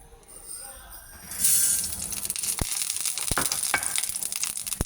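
Mustard seeds, chili, ginger and curry leaves tossed into a spoonful of hot oil for a peanut snack, sizzling and crackling steadily after a quieter start, with a few sharp pops and a utensil clink.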